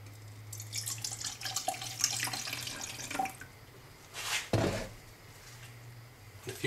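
Hydrogen peroxide being poured into acid for gold recovery, a soft, close trickling splash of liquid with a low hum in the background and a brief louder pour near the end.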